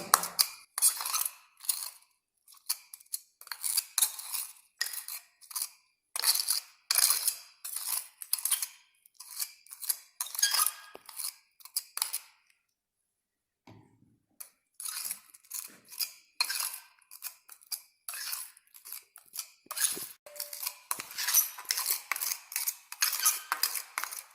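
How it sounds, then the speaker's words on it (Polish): Soil paste being mixed in a bowl with water until uniform, a steady run of scraping, clinking strokes of a tool against the bowl, close and fairly loud, with one brief pause midway. "No i mieszam tak długo, dopóki ta pasta nie stanie się jednorodna."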